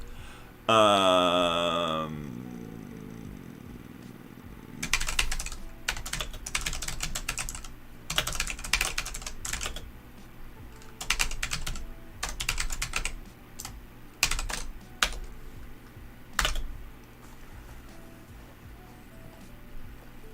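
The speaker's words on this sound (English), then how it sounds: "I swear I'm a better typer than this." Bursts of fast typing on a computer keyboard, close and clear, come in irregular clusters separated by short pauses, following a brief loud tonal sound at the start.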